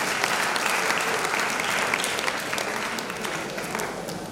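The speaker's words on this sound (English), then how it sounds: "another round of applause for her" An International Women's Day audience gives Professor Rose Angela Onwuba a round of applause, a full, even burst of many hands clapping that stays level, then tapers gently, somewhat distant in the room.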